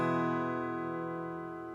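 An in-tune acoustic guitar rings out with a single strummed chord, rich and close, slowly decaying with no talk.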